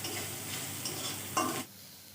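Garlic frying in a pan for a village-style rui fish and red spinach dish: a close, soft sizzle with brief stirring scrapes, ending in a quick clink before dropping quieter.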